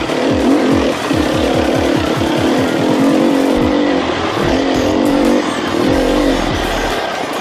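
A 2019 Sherco SEF Factory motorcycle engine running close by, loud and steady with a rapid, pulsing exhaust note and repeated blips of revving throughout, no talk over it.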